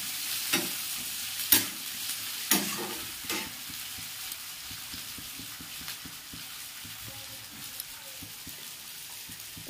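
Masala roasting in a pan for a home-cooked soybean curry, with a soft continuous sizzle and frequent scraping stir strokes, several louder knocks near the start.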